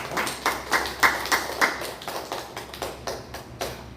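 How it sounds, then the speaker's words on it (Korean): A church congregation claps together in a sharp, steady rhythm that is loud and close at first and then eases into softer, slightly uneven claps toward the end. "우리 하나님께 영광의 박수를 올려드리겠습니다"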